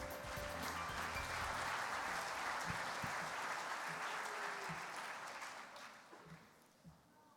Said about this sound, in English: Please join me in giving a round of applause for all of our scholars.